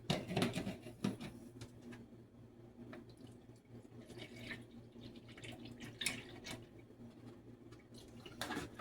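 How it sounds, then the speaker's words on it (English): A cup and a half of milk being poured into a blender for a cream cheese Jell-O holiday dish, a steady liquid trickle with a few clinks and knocks of containers, fairly close. "And then I'm going to add a cup and a half of milk"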